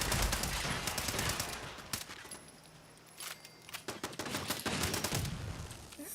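Defensive turrets firing in Fallout 76, rapid bursts of gunfire cracking repeatedly at fairly close range over a steady background din.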